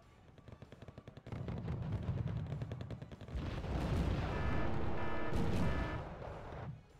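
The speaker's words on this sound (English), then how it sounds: "Danger close mortars!" Mortar fire and explosions in the wartime strategy game Wargame Red Dragon: a rapid crackle of gunfire gives way to heavy, rumbling blasts that build into a dense, loud barrage with sharp impacts before fading.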